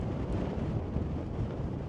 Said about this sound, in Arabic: الريح مجهد اخوتي